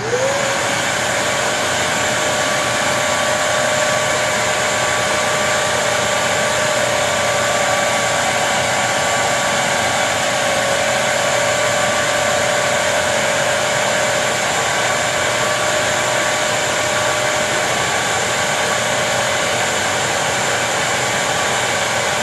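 A Kenmore Elite 31150 vacuum runs with all three filters removed, giving a loud, steady, high whining roar that holds constant from start to finish.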